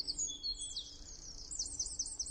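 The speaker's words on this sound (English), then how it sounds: "Can we just turn the birds down a tiny bit?" Faint high-pitched birdsong, a string of thin quick chirps and trills repeating over a low background hiss, with no voices.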